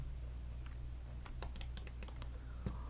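Computer keyboard shortcut keys pressed during Cinema 4D R23 3D modeling work, heard as several separate, fairly faint clicks spread across a steady background hum.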